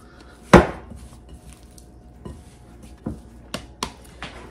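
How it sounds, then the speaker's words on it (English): Gluten-free bread dough being beaten in a bowl, heard as a few sharp, separate knocks and slaps spread out over quiet stretches, with one loud thud near the start. "Now I am beating the dough, but I'm just working the flour in"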